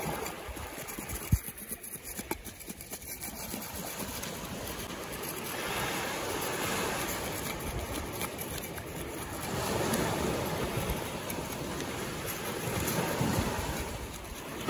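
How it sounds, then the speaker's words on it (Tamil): Sea waves wash onto a rocky shore, a steady broadband roar with rising surges near the middle and end, mixed with wind buffeting the microphone and no talk. "வருது அலை வருது."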